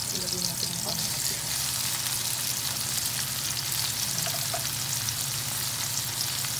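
Sliced tomatoes hit sizzling sautéed vegetables in a hot pan, producing a loud, continuous frying crackle and hiss throughout, with a voice speaking faintly underneath.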